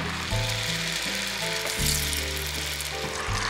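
Steady crackling sizzle of dates sweets frying in hot oil, continuous and close, with a low hum running underneath and no talking.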